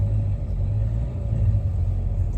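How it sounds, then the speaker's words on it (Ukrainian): A car passes close by on a road, a steady loud low rumble of engine and tyres filling the whole short stretch, with no talk. "машина справа їде ще"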